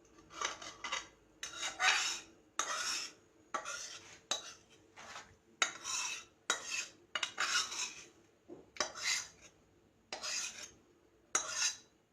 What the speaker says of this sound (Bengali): এবার আমি নামিয়ে নেব আমার তরকারি